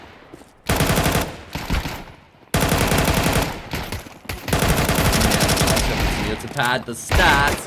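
Rapid automatic gunfire from a video game weapon crackles in loud sustained bursts with brief pauses, while a commentator talks over the shooting.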